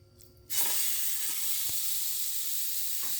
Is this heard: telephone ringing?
no